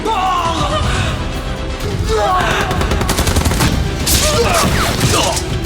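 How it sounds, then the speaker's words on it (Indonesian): Dense gunfire crackles through a film shootout in which a sniper picks off villains from long range, with overlapping shots, clatter and brief shouts mixed into a loud, busy action soundtrack. "Jintai bertindak dengan menembak para penjahat dari jarak jauh"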